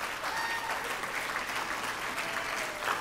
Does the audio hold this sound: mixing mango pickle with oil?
no